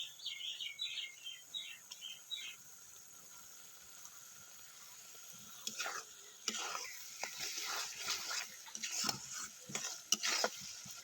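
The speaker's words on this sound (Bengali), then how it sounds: "এবার সব কিছু ভালো করে মিক্স করে নিচ্ছি আর মশলাটাকে ভালো করে কষাতে হবে" Masala for pea ghugni being stirred and fried in a pan, soft scraping strokes over a steady sizzle and hiss, building louder in the second half, with birdsong faintly at the start.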